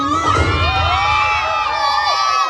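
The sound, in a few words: crowd shouting and applauding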